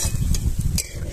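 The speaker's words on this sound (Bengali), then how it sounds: "ঝোল ফুটে উঠেছে" Fish curry with poppy seed paste bubbles in a pan, giving a short burst of soft, close simmering and sizzling with a couple of brief scraping clinks.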